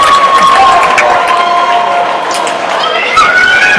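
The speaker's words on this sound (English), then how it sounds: "The crowd loves it. The players love it." Spectators at the 2017 New Zealand men's national water polo league final between North Harbour and Marist cheer loudly and continuously, while a commentator talks over the roar.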